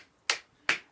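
Two sharp, quick pats of a hand against the arm during a self-massage of the arm meridians, spaced under half a second apart, close and fairly quiet.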